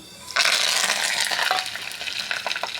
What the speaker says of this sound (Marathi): एक चमच तेल गरम केलं आपण आता सांबारला तडका देऊ जिरं कडीपत्ता मोरी